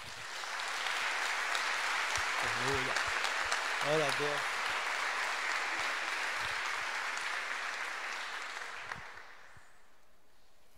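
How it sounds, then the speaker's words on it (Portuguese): A church congregation at a pastor's immersion event applauds, giving steady, dense clapping that lasts about eight seconds before fading out. A voice speaks briefly over it partway through. "Você pode dar um aplauso a Jesus?"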